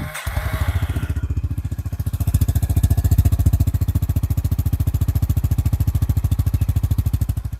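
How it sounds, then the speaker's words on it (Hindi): A Honda CB350RS motorcycle idles close up with a loud, thumpy, evenly pulsing single-cylinder beat held steady throughout after a brief knock at the start. "एक बार आइडल साउंड उसका सुन लेते हैं।"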